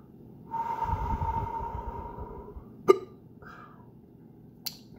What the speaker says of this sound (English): Wish I could drop these hiccups.